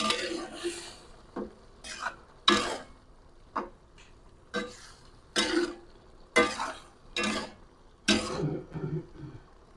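Squid being stirred in a pan, a run of sharp spatula scrapes and metallic knocks in irregular bursts, close and fairly quiet, with brief vocal sounds between strokes.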